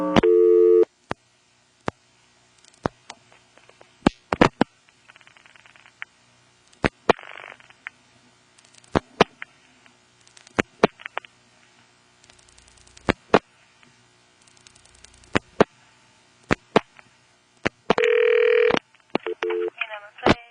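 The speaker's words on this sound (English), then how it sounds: "On this particular call, you can hear that rotary switch sound a bit louder." A 1977 NX1-E telephone exchange in Vanceboro, North Carolina handles a call: sharp clicks and clatter from the rotary switch and bursts of tone, with a voice heard briefly among them.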